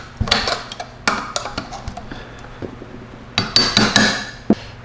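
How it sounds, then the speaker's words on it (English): Metal tool prying at the cooling fan on an aircraft alternator on a workbench, sharp metallic clanks and taps in irregular bursts, close and loud, with quieter scraping between. "we'll see if we can gently pry this cooling fan off of here"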